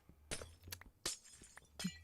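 Repeated glass shattering in Minecraft, three or four sharp bright crashes spaced about every half second to second, fairly quiet over a low background hum.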